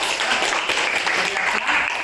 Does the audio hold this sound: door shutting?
no